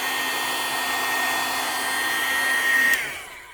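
A heat gun blows a steady, loud stream of hot air onto an ostrich egg, holding an even roar for about three seconds before cutting off and fading.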